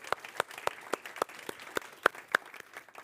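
A small audience claps for a speaker at a climate and pandemic preparedness conference, sparse, fairly quiet applause with distinct individual claps in a steady loose rhythm.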